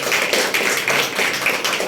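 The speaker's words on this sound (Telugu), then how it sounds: "మీరందరూ ఒక్కసారి గట్టిగా క్లాప్స్" A crowd applauding at a Telugu public meeting attended by an APSRTC chairman and an MLA, a dense continuous patter of many hands at steady loudness throughout.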